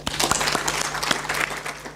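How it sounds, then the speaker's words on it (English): An audience at a Uganda diaspora breakfast meeting applauds, dense clapping from many hands that stays loud and steady from start to finish, with a little voice mixed in. "Please give them a clap."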